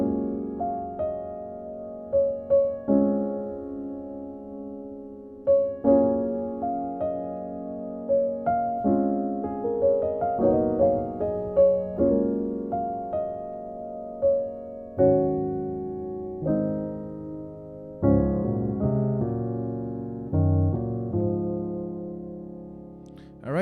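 Solo piano plays the introduction of a gospel song with rootless jazz voicings, a slow, sustained chord progression with melodic fills, each chord struck and left to ring, with no voices.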